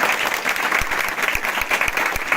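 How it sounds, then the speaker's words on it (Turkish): A crowd at a political party campaign event applauds steadily, dense clapping from many hands continuing loudly throughout. "Ona da kocaman bir alkış rica ediyorum"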